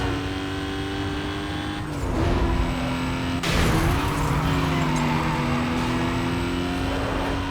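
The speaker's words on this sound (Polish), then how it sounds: "Fajny ma dźwięk silnika." Engine of an Aston Martin DB9 racing in the video game Need for Speed Most Wanted, a steady sustained drone that rises in intensity as the car accelerates, loud and continuous with no talk.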